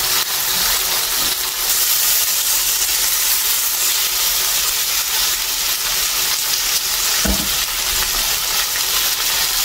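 A small amount of oil heats in a pan, giving a loud, continuous bright sizzle that holds steady throughout, broken once by a brief clink, with no talking.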